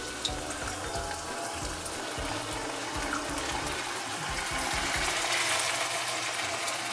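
Water sloshes and swirls inside a can as it is rinsed out in a home kitchen, with irregular splashing and gurgling close by and no one speaking.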